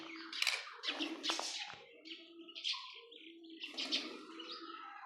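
Several parrots of various kinds chirp and squawk in quick overlapping calls, close and lively, with no talking.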